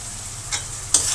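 Potatoes and dried fish sizzle steadily in a pan while a utensil scrapes through them in a couple of brief stirring strokes, close up, with no voices.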